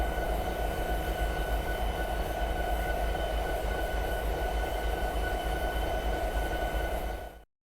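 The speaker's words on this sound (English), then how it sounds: "Welcome back to the cab of the SD70 Mac diesel locomotive." SD70 Mac diesel locomotive running in Train Simulator 2020, with a steady loud engine drone and rumbling cab noise that continues evenly, then cuts off abruptly at the end.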